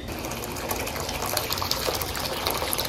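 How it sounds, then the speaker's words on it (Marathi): Hot water gushes steadily from a kettle into a large wok for chicken biryani, a continuous close pouring splash that holds level throughout. "मी मोठी कढई घेतलेली आहे आणि त्यामध्ये पाणी घातलेलं आहे"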